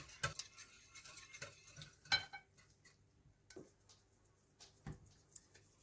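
Faint, sparse clinks and scrapes of a spoon stirring beet juice in a bowl, soft taps spaced irregularly against a quiet background.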